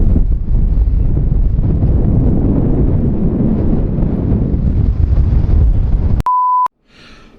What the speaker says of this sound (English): The wind hits you and it's like you can't breathe.